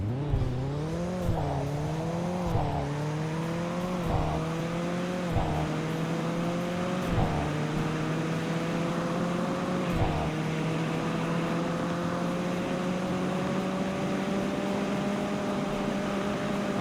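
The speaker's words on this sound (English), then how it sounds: "I'm gonna floor this 1 Series in 3, 2," BMW 1 Series with an 8-speed automatic and all-wheel drive accelerates at full throttle, its engine note climbing and dropping in repeated rising sweeps as it shifts through the gears, steady and close inside the cabin.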